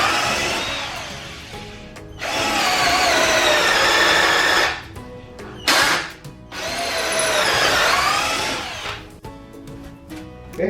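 Mollar CDD585 12V cordless drill boring into wood in gear 2, running as a loud high whine in two long sustained bursts with a short spin-up between, then winding down into quieter handling noise.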